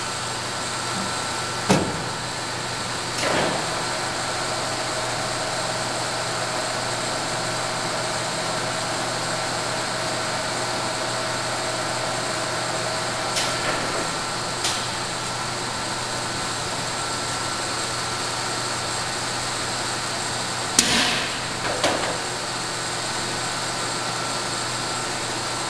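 A Nardini AM 3280 metal lathe runs steadily at different spindle speeds, giving a constant machine whir with a few brief clunks and knocks along the way.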